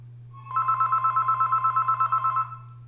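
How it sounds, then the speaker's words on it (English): A telephone rings for an incoming call in one sustained burst of rapid electronic warbling pulses, close and clear over a low steady hum in a quiet room. "We got a phone call here."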